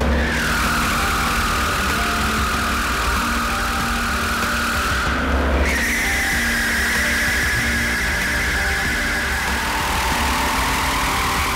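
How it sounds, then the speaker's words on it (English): Michelin tire testing machine spinning a Bugatti Veyron tire, a loud continuous mechanical roar with a high whining tone that dips and returns midway, no voices present. "This uniquely devilish device reproduces every possible force and condition the Veyron tire would face on the road or the track."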